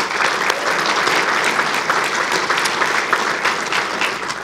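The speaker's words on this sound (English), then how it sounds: "let's give our sponsors a round of applause" Sustained, dense applause from an audience at a chamber of commerce awards celebration, steady and loud throughout with no breaks.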